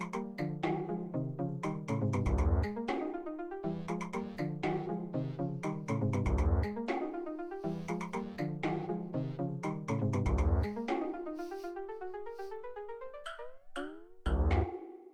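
An old-school Schroit electronic track plays loud and continuous, with rhythmic bursts of bouncy, croak-like synth notes over repeating low pulses, running alone without talk.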